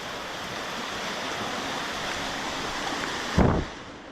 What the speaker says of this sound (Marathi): पाण्याचा इथं आहे ना फोर्स बघा भरपूरच आहे